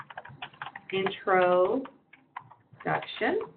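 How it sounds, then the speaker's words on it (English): Computer keyboard keys clatter in quick bursts of light clicks while a person talks over them, the typing close and fairly soft beneath the voice. "And now I can type what this is."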